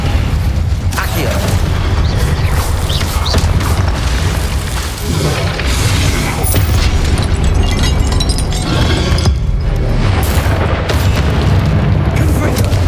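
Spell effects from the Hogwarts Legacy video game: blasting Confringo bursts and fiery Incendio casts booming and crackling repeatedly over dense, loud background music, with a voice calling out spell names throughout.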